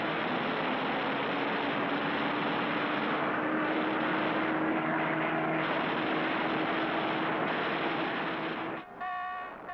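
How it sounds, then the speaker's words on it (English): World War II fighter planes, American Hellcats and Japanese Zeros, roar in a dense, continuous propeller-engine drone that stays loud throughout, with a steady engine hum underneath. "The American Hellcats fell on the aging Zeros and shot them out of the sky."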